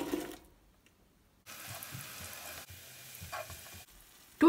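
Onion frying in cooking oil for savoury rice, with a soft sizzle that starts after a near-silent pause and continues with a few short breaks and a clatter at the end.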